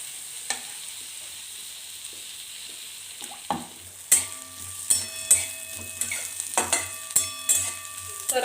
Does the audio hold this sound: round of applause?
no